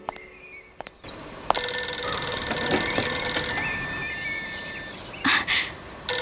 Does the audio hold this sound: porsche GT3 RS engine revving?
no